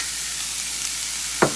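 Zucchini, corn and garlic sizzle steadily in a hot sauté pan, a constant bright frying hiss with one brief clatter of a stir near the end.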